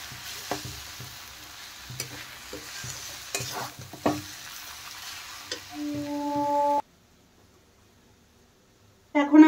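Cabbage for a fish-head cabbage curry fries in a pan, a low sizzle under repeated spatula scrapes and knocks. It cuts off abruptly into silence, and a brief tonal burst follows.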